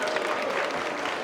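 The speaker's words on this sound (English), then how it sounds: "Big round of applause for the Bengals." Audience at a cat show catwalk in London's Olympia applauds Bengal cats, a dense, steady wash of clapping that is loud and close, filling the whole short moment with no pause.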